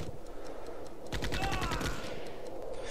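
Rapid automatic gunfire from the shooter game XIII on Xbox, a dense burst of rattling shots starting about a third of the way in after a quieter stretch of faint breeze and distant pops, loud and close.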